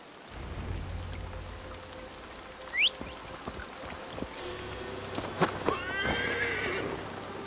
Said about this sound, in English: I feel as if I've ridden my horse through a door to another world.